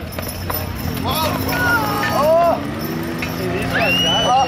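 Hooves clop on hard ground as draft horses come around to hook up at a fall fair horse pull, with a busy crowd and an announcer-style voice talking over the scene.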